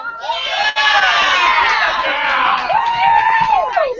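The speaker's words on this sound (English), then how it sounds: "it sounds like the crowd has stayed" Crowd at a summer collegiate baseball game, Anchorage Bucs at Mat-Su Miners, cheering and shouting loudly and steadily, with high children's yells and whoops rising through the roar, close and continuous.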